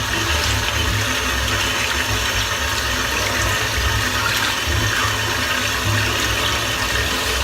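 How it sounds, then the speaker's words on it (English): Soap being rinsed from a shaving brush under running tap water, a steady close, loud rush of water that continues unbroken throughout. "Rinse the soap out because it's still drying in."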